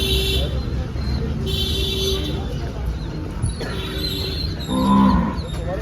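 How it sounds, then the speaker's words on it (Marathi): Loud, drawn-out mooing from large buffaloes nearby at a buffalo market in Dhule, several low calls, while people talk over a busy outdoor background. "आता इकडे पण काही मोठ्या म्हशी"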